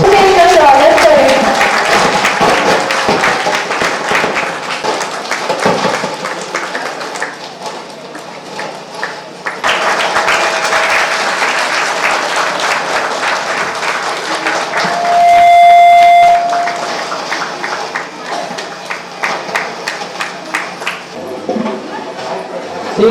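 Bursts of crowd clapping at a Good Friday church gathering, rising and falling in waves, with a voice speaking over parts of it and a brief tonal ping midway.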